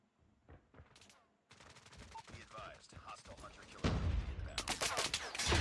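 Gunfire during a gunfight in the mobile game Call of Duty: Mobile: rapid, crackling bursts of shots that start sparse and quiet, then grow steadily denser and louder toward the end.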